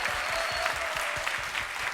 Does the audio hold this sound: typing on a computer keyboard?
no